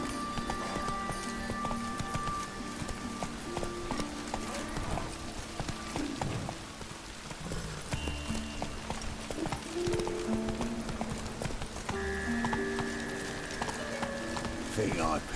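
Hooves of a galloping horse from The Witcher 3 clatter in a quick, steady rhythm throughout, with game sounds and voices mixed in around them.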